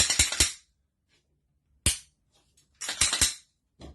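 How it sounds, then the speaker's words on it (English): A Glock pistol being cleared: close, crisp clusters of metallic clicks and clacks from the slide and magazine, heard in three or four short bursts separated by quiet gaps. "Let me clear the gun for you."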